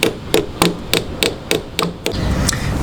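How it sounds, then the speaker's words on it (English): Rubber hammer tapping a frame cover into place on a Vstrom 800 motorcycle, eight sharp, evenly spaced knocks close up, followed by a brief stretch of steady background noise. "You take your rubber hammer"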